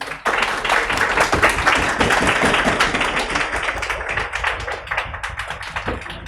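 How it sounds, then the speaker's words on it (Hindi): An audience in a lecture hall keeps up loud, continuous clapping, a dense patter of many hands that stays strong for several seconds before easing off slightly toward the end. "ये तालियां जारी रखें।"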